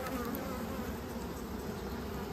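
Honey bees hum steadily at an open horizontal hive during queen rearing, a dense continuous buzz with no talk, close and even throughout.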